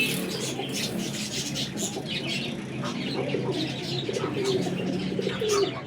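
Repeated low cooing of racing pigeons over a constant bed of bird chatter and chirping, with a brief flutter of wings.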